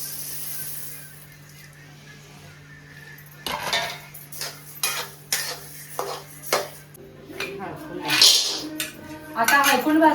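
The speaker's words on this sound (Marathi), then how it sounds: "आता धने भाजायचे." Coriander seeds dry-roast in a pan for Kolhapuri chutney masala, quiet at first, then a run of loud metal scrapes and clanks of a spatula against the pan, close and irregular.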